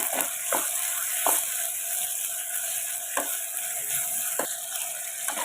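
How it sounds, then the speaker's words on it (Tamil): Tomatoes sautéing with salt in a pan for a mutton masala kulambu, a dense continuous sizzle with a few sharp spatula scrapes against the pan, close and fairly loud, no talking. "சேர்த்துட்டு தக்காளி வதங்குறதுக்கு தேவையான உப்பு சேர்த்து இதை ஒரு ரெண்டு நிமிஷம் நல்லா வதக்கி எடுத்துக்கோங்க"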